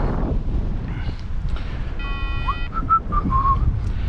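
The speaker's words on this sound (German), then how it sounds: "Der Wind ist heute ein bisschen doller als sonst." Strong wind during a flight buffets the microphone with a steady low rumble, and thin whistling tones rise and fade over it.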